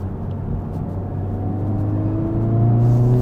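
A 2023 Honda Civic Type R engine revs steadily upward as it climbs through a gear on a winding road, a smooth rising drone growing louder over about three seconds with no talk.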